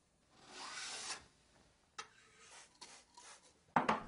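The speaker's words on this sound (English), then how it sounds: "The first step is to joint the edge with a file to make sure that it's flat and true." A file rasps along the edge of a steel card scraper, jointing it flat: one long soft grinding stroke, then a few shorter quiet strokes and a sharper scrape at the close, all near and alone.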